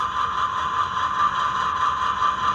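Scaletrains Santa Fe C44-9W model locomotive's onboard sound system idling, a steady, even diesel drone with a faint pulsing throb that holds unchanged throughout.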